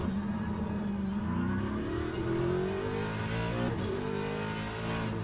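Ford Mustang GT3 race car at Le Mans in Le Mans Ultimate, its engine note rising steadily under acceleration, loud and continuous throughout with a climbing, smooth tone.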